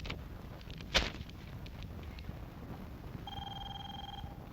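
An indoor telephone rings with a steady electronic tone near the end, preceded by a sharp knock or thud and faint background noise.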